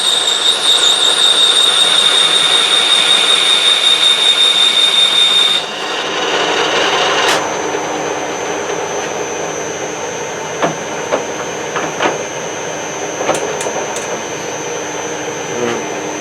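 A machine tool cuts metal during a small repair job, a loud steady grinding whir with a high whine that drops away partway through as feed and RPM are slowed, then a quieter hum with scattered clicks.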